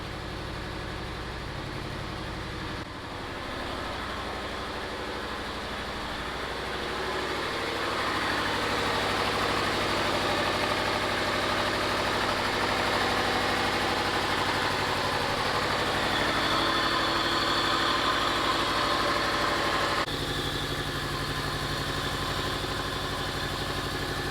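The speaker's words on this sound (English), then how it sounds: "let's go ahead and see if it'll start up. Oh yeah, started right up." A car engine starts and settles into a steady, loud idle that runs on alone, with the rumble building slightly after startup.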